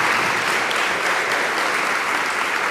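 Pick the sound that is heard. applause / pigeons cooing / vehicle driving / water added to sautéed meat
applause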